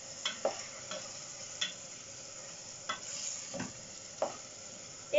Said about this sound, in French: Alors toujours remuer.